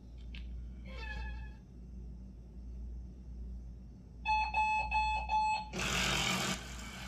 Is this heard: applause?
no